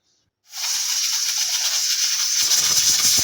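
Pressure cooker on a kitchen stove cooking chana dal, its valve suddenly releasing a loud, steady hiss of escaping steam that holds for about three seconds, with a faint low rattle coming in near the end.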